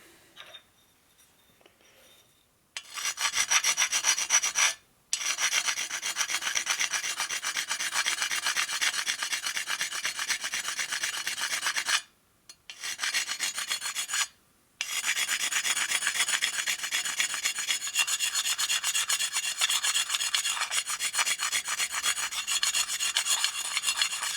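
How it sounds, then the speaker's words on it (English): A sharpening stone rasps steadily back and forth against a metal edge in a workshop, a close, continuous scraping grind broken by a few short pauses, with no voices. "I'm going to cut this edge right here a little bit"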